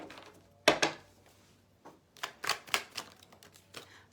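Several short riffling bursts of Rider-Waite tarot cards being shuffled, fairly close, with quiet pauses between and no talking.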